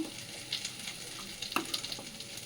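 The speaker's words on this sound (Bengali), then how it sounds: "আর এখানে বানাচ্ছি আলু ভাজা" Potatoes fry quietly in a pan with a soft, steady sizzle and a few faint clicks of a utensil, with no voices.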